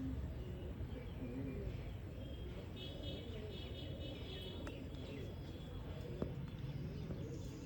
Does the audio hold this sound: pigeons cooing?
yes